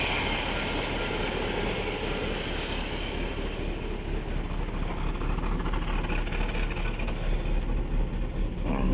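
A Chevy truck engine idles steadily with a low, continuous mechanical rumble and faint ticking, close and fairly loud throughout with no speech.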